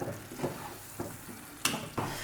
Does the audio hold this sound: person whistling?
no